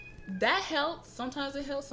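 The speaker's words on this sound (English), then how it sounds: "we had kittens, and they are literally like screaming for my attention right now" Kittens meowing for attention indoors, with short, insistent rising cries close by that overlap a person talking.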